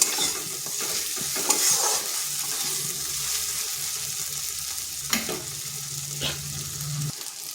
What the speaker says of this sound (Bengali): এখানে দিয়ে দিচ্ছি আদা রসুন কাঁচা লঙ্কা যে পেস্টটা করেছিলাম। এটাকেও একটু ভেজে নিচ্ছি